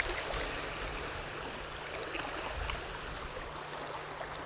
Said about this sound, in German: Oh, jetzt kommen aber richtige Wellen hier an.